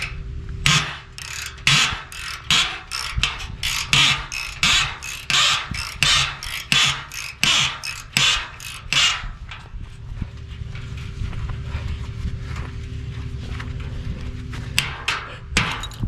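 A hand ratchet loosens small 10 mm bolts with loud, close, rapid bursts of clicking that come in quick repeated strokes, then a quieter stretch with only a few scattered clicks.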